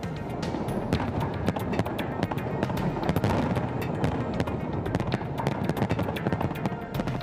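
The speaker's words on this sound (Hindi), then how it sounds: "मॉस्को में काफी देर तक आतिशबाजी होती रही।" New Year fireworks burst over Moscow, with a dense, continuous crackle of sharp pops and bangs throughout and no talking.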